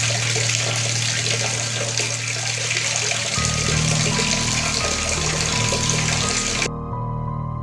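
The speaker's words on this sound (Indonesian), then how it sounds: "dia mendengar suara air keran dari kamar mandi lantai 1." Water runs from a bathroom tap on the ground floor, a continuous loud gushing stream with a low pump-like hum joining midway before the flow cuts off near the end.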